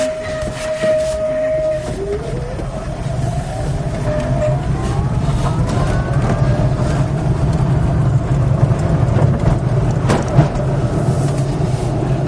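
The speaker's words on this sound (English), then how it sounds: "Well, you get a fair bit of road noise in the car." Inside a moving electric-converted car, steady road rumble fills the cabin while a faint electric whine glides upward in pitch as speed builds, continuous and fairly loud with no voices.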